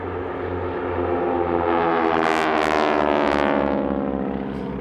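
Propeller aircraft of a wingwalking team flying an airshow display at an English air festival, a loud droning engine with pitch shifting as it passes fairly close overhead.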